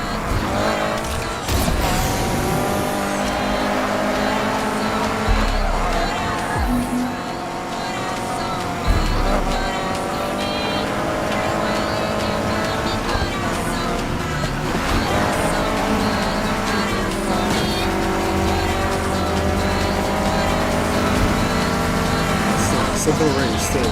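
A Chevy Nova drifts in a racing video game, its engine droning steadily with tire squeal as it slides through turns, someone talking over the top and music running underneath.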